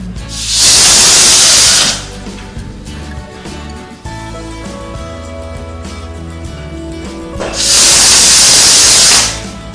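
A pressure cooker on a kitchen stove bursts into two loud hissing steam releases while cooking akkaravadisal, a sweet rice dish. A quieter, steady cooking rumble fills the gap between the bursts.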